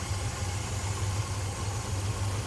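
A custom 426 Hemi engine in a 1955 Chevy idles steadily, a low, even rumble with a slight pulsing throb and constant background hum.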